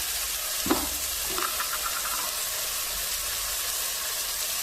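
Cumin paste, turmeric and other spices for a rohu fish curry sauté in a pan with a constant close hiss, with one sharp spatula clank and a brief scrape near the start and no talking.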